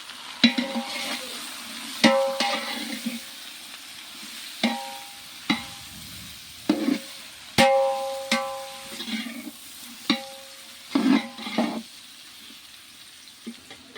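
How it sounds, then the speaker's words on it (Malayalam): Sliced onions frying in oil in a pan, a soft continuous sizzle broken by sharp clicks and scrapes of a spoon stirring, close up with no voices. "അതിന് കുറച്ച് അതിൻ്റെ പകുതി എണ്ണ ഒഴിച്ചിട്ട് ഉള്ളി പൊരിച്ചെടുക്കണം"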